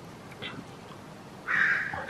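Crows cawing outdoors at a morning campsite, faint and distant at first, then a louder, harsher call near the end, over quiet background ambience.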